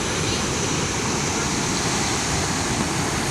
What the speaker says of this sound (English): The mighty Saugeen is really rolling and the water is very high.